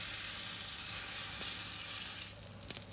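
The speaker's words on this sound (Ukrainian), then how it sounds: "слухайте, як на сковорідці шкварчить дерун" Steady, close sizzling of a potato-pumpkin pancake frying in a pan, a continuous crackling hiss, with a few clinks near the end.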